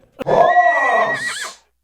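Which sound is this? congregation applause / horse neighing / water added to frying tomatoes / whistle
horse neighing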